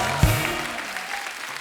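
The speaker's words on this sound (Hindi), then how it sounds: "जोरदार तालियां हो जाए हमारे मेहमानों के लिए।" Studio audience applause greeting guests on a Hindi celebrity talk show: a dense, steady wash of clapping with one sharp burst near the start, lasting under two seconds.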